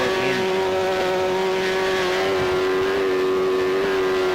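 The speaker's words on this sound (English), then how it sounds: "running the rev limiter" An F1 car engine in the F1 Challenge video game holding a steady high-pitched whine at the rev limiter, loud and continuous throughout with a slight buzzing flutter.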